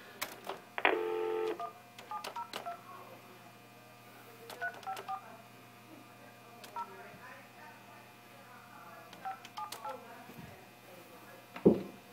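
A phone dials out for a live real-estate cold call, with a few short touch-tone beeps spread over the quiet line and soft background sounds between them.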